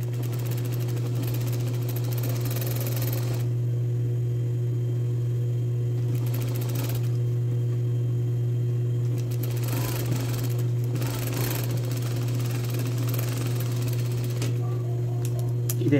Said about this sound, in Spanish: Ahora estoy cosiendo por la parte al revés.